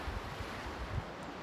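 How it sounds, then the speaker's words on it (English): Baltic Sea surf along the Swedish coast, a steady low wash of waves with wind buffeting the microphone, fairly faint and continuous with no voices. "The Baltic Sea."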